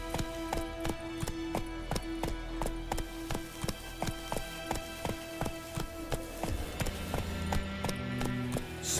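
Horse hooves galloping in the video game The Witcher 3, a fast, steady clip-clop rhythm close and loud over a soft background wash, slowing slightly toward the end.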